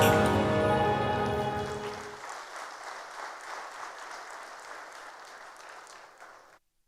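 Applause from a crowd, loud and full at first, then settling into steadier clapping that continues for several seconds before cutting off.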